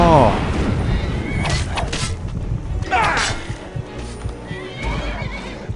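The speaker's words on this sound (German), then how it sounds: "Die greifen mein Pferd an." A horse under attack in Skyrim gives a loud, shrill whinny at the start, followed by clattering hoofbeats and thuds of combat, with someone talking over the game sounds.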